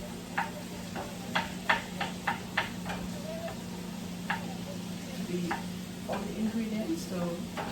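Vegetables, including yellow and red onion, are stirred in a frying pan, giving a series of quiet scraping taps and clicks over a soft continuous sizzle, with no talking.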